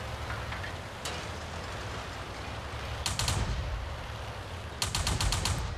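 Rapid bursts of tank cannon fire in World of Tanks, rattling off like a machine gun in two clusters of quick shots over a steady background rumble.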